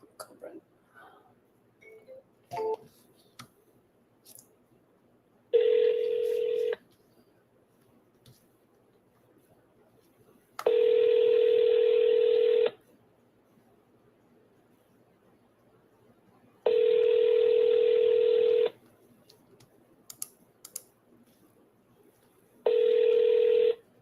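A telephone rings four times with long, evenly spaced tones, loud and close, before a call goes through to voicemail; faint background noise fills the gaps between rings.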